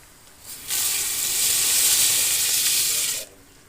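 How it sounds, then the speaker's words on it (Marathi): A burst of hissing, sizzling water noise rises suddenly, holds steady for a few seconds, then cuts off as rice is tipped into fully boiling water. "आता हे पाणी पूर्ण उकळलेलं आहे तर हे तांदूळ पूर्ण ह्या पाण्यामध्ये टाकून शिजवून घ्यायचं"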